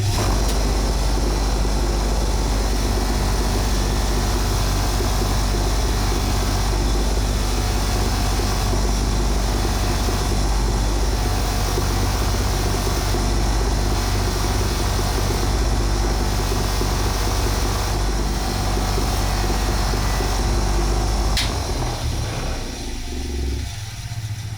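A polishing machine fitted with Scotch-Brite and flap wheels works bike parts in a continuous loud grinding whir that holds steady for over twenty seconds before easing off near the end.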